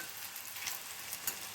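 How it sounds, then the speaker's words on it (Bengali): Corn fritters deep-frying in hot oil give a steady, close sizzle with brief bubbling pops and no voices. "যে কোনো বড়া জিনিসটাই কিন্তু একটু ছাকা তেলে ভাজা হয়"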